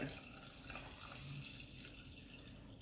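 Water poured at steady volume into a pot of beef cheeks for slow-cooked Chinese five-spice braise, a continuous splashing trickle heard close for the whole stretch with no talk over it.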